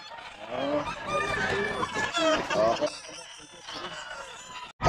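Sweater-line gamefowl rooster crowing and clucking at a busy pet market, its calls layered over market chatter and nearby voices, fairly close and loud before the noise thins out near the end.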